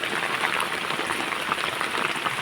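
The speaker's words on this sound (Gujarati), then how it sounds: "ઝરમર ઝરમર મેહુલો વરસતો હોય" Light monsoon drizzle falls over a farm field, a steady, even hiss of fine raindrops with soft pattering throughout, moderately loud and unbroken, no voices.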